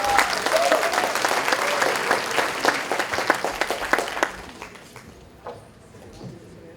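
Loud, sustained audience applause at a Little Saigon award ceremony honoring Vietnamese Americans, with dense clapping for about four seconds before thinning and fading into scattered claps.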